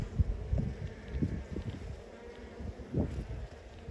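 Soft, low buzzing of honeybees close by, a steady droning hum that swells and fades, with faint rustling and no talking.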